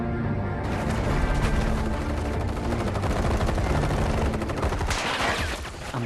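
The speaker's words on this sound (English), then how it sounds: "Whole freaking army unloading on my position." Dense gunfire from an army in the Final Fantasy VII video game, a loud continuous barrage of rapid shots and booms that rumbles on for several seconds with no voices.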